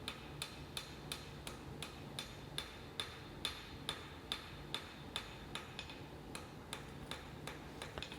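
Steady rapid taps of a hand hammer planishing a forged hidden-tang hunting knife blade, light even blows ringing at a regular beat, about thirteen strikes at moderate distance with no voices.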